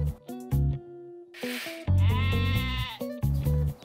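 Mountain goats bleating at a zoo, several loud, close, wavering cries repeating in quick succession, some long and strained, with short pauses between calls.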